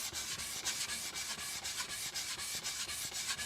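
A katana blade rubs back and forth on a King Deluxe L400 sharpening stone in steady, even strokes, a close, soft gritty scraping that repeats rhythmically with no talking.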